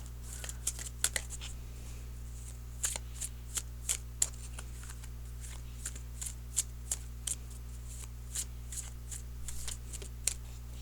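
Tarot cards being shuffled repeatedly, with soft riffling flicks in an irregular rhythm over a steady low hum, close by and quiet.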